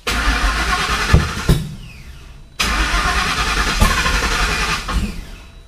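A 1986 Fox Body car fitted with a new fuel pump cranks and fires into a loud running engine, cuts out, then restarts and keeps running for several more seconds.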